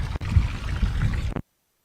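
Piped water fed from a source up the hillside pours and splashes steadily at close range for just over a second, then cuts off abruptly into silence.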